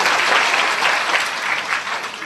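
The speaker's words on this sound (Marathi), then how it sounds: "तर त्यांच्यासाठी सगळ्यांनी एकदा जोरदार टाळ्या।" Loud, dense audience applause, steady throughout, honoring a powerful-voiced kirtan performer at a public gathering.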